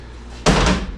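A Saturn car door being shut, a single loud solid slam arriving abruptly after a quiet moment, followed by a short ringing decay.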